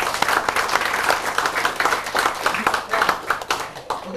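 Audience applause fills a room at a K-Link new partnership orientation, a steady, dense burst of many hands clapping close by for several seconds with a voice speaking over it.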